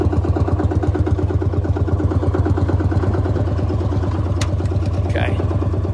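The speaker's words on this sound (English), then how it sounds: "you can hear it running at idle from up close a little bit too." A 1955 Lanz Bulldog D2402 two-stroke tractor engine idles steadily up close, with a loud, even low thumping that continues without a break.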